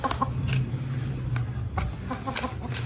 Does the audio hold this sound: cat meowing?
no